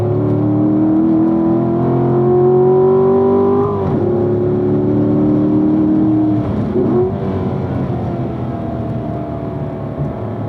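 A race car runs on a circuit under light throttle between braking zones, its engine droning steadily with harmonic tones that rise and dip as it turns, loud and close throughout without speech.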